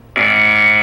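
Buzzer sounding on a comedy talk show, a single loud, harsh electronic tone that starts abruptly and holds steady, with no talk over it.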